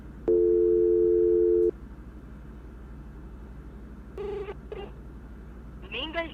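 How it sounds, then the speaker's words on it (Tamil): A telephone tone sounds after a call is hung up, one long steady tone followed by an automated voice and other speech, with a few brief tonal beeps before the talk. "நீங்கள் டயல் செய்த எண் தற்போது பிஸியாக"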